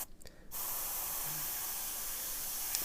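A Harder & Steenbeck Evolution airbrush sprays paint at 20 psi through a 0.4 mm nozzle: a brief click, then a steady, close, continuous hiss of air and paint that holds evenly to the end.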